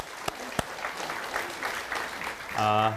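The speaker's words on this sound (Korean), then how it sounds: "우리 하나님께 감사의 박수를 드리겠습니다" A church congregation clapping in thanks after a Scripture reading during a Korean worship service, moderate dense applause with a couple of sharp knocks early on and a short sung or sustained tone near the end.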